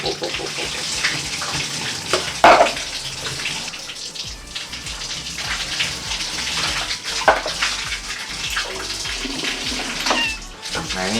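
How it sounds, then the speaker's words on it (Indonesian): Water from a tap splashes over a cat with a fungal skin infection as it is rinsed during a grooming bath, the flow running continuously nearby while the cat meows and people talk. "Sekarang kita bilas."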